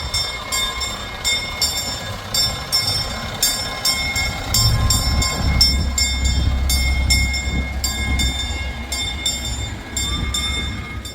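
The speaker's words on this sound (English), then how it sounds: "This is actually the train cars they typically use for their train here." The Galloping Goose train ride at Knott's Berry Farm, with steady rail clatter and rumbling carriages alongside a regular clicking rhythm of wheels over track joints, close and continuous throughout.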